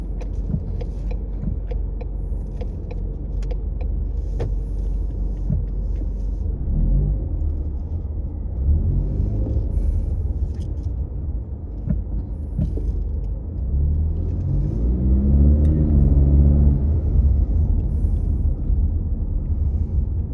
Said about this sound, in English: It is rush hour traffic,